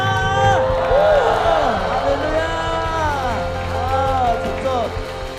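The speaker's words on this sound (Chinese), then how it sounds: "我们掌声加欢呼好吗？" Church congregation at a Sunday worship service applauding and cheering, with dense sustained clapping, whoops and crowd hubbub throughout. A voice speaks over the applause.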